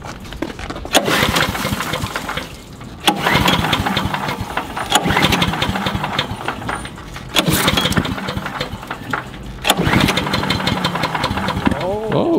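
A small engine on a debris loader cold-starting after a pull crank, loud and close, sputtering in repeated bursts that surge and falter, with voices talking over it.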